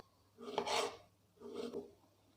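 Food being cut on a tray in a village kitchen while making spicy oil-roasted eggs with gravy: two separate rasping, scraping strokes, close and moderately quiet.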